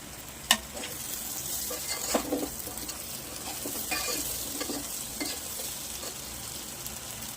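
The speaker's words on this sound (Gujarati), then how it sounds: "પરવળને આપણે ગેસની ફ્લેમ સ્લો કરી અને થોડી વાર તેલમાં શેકાઈ જવા દઈએ।" Stuffed pointed gourd (parval) frying slowly in oil over a low gas flame, a steady soft sizzle throughout with occasional light stirring clinks and scrapes, no voices.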